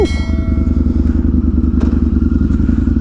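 A Harley-Davidson V-Rod motorcycle cranks up and settles into a loud, close, rhythmically pulsing idle that runs steadily for a few seconds, with no talking.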